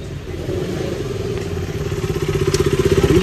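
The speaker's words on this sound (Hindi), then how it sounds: "मुझे जो लग रहा है कि ट्यूनिंग में इशू है जरा बाइक का क्योंकि इतना फ्लक्चुएट नहीं करना चाहिए आरपीएम" Royal Enfield Bullet motorcycle engine idling and revving close by, a steady thumping beat that quickens and swells toward the end, with the revs fluctuating unevenly.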